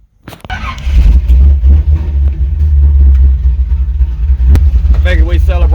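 An old Chevy C10 pickup truck engine rumbles loud and close, rising from a start into sustained deep revving with steady throttle swells for a Christmas burnout, while a voice talks over it near the end.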